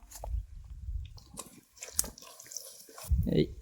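Water poured from a cup into a pot for rice at an outdoor hillside pot-biryani cookout; splashing and trickling come in short bursts, close by, with speech and handling noises around them.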